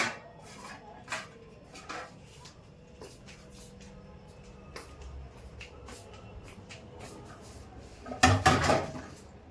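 Dishes handled in a home kitchen, with scattered light clinks and knocks of utensils and pots, then a louder clattering burst near the end, heard alone.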